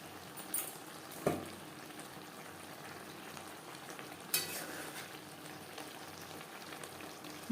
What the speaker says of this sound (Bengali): ধনেপাতা হালকা করে মিক্সড করে দেব